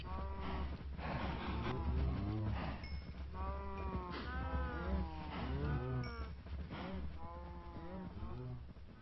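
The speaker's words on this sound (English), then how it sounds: "The cows, they love me." Cows in the video game Chainworld give repeated, overlapping lowing calls. The soft, wavering moos follow one another in an uneven rhythm.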